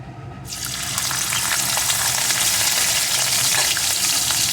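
Garlic cloves sizzle loudly in hot oil as they hit the pan for a pumpkin dish, a dense steady crackle that swells after a quiet start and holds throughout, with no voices.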